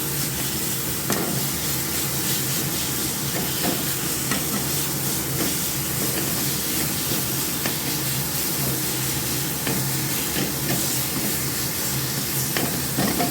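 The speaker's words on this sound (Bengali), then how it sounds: "এটা আর একটু ফ্রাই হয়ে নিই।" Pointed gourd (potol) for a dorma frying in a pan with salt and turmeric, a steady dense sizzle running throughout with scraping stirs of a spatula, close and continuous with no talk.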